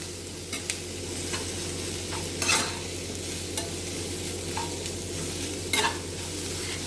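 Steady close sizzle of onions being sautéed in a pan with a sprig of curry leaves, broken by occasional spatula scrapes and clicks against the pan; no voices.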